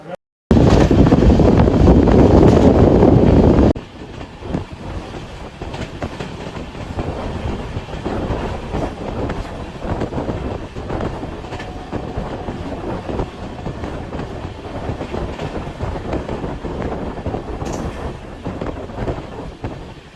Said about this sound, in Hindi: आउटर से ये ट्रेन आगे की ओर बढ़ रही है